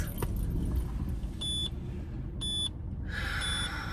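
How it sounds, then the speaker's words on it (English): A car's reminder chime sounds as two short, evenly spaced bursts of tonal beeps inside the vehicle, set over steady road rumble, followed by a different brighter tone near the end. "You don't need to beep to remind me."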